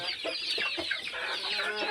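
Several free-range village hens cluck softly and continuously up close while eating, a busy overlapping chatter of short calls.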